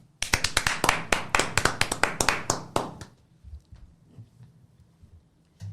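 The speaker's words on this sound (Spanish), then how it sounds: "invitemos con un fuerte aplauso" Audience clapping welcoming Yesenia Herrera through "la puerta estrecha" on a talk show set: about three seconds of loud, sharp, fairly sparse claps from a small group, then quiet room tone.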